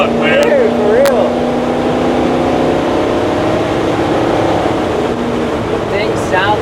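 An LS-swapped 1964 Chevy C10 pickup on airbags drives along, its V8 producing a loud, steady engine drone with road noise from inside the cab, and people talk briefly over it.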